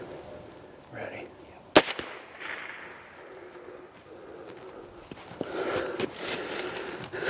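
A hunting rifle shot fired at a whitetail buck in the Kentucky woods cracks once, sharp and loud, amid quiet outdoor ambience, with faint hushed talk nearby.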